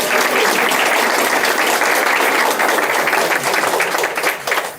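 Audience applause at the Hamilton County State of Cancer Caucus 2025, a loud, sustained wash of clapping from a large crowd that holds steady and begins to thin toward the end.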